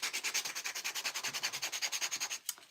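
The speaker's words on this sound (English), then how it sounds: "So let's sand a little bit." Dried stencil craft pieces being sanded by hand, a close, steady run of quick rhythmic rubbing strokes, about eight per second, continuing for nearly three seconds before a brief final scrape.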